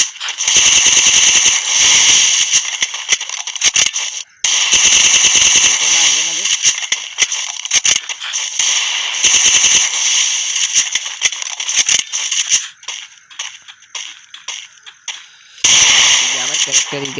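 Rapid bursts of automatic gunfire in a shooting video game, dense crackling volleys with brief pauses, loud and near, while someone talks over the action.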